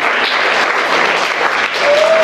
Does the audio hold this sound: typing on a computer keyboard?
no